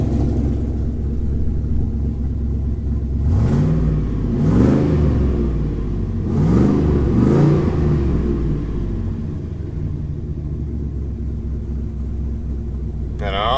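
A warmed-up GMC 2500 pickup's 4.8 engine idles with a steady rumble, while a few rising and falling squeals swell up over it before fading back to idle.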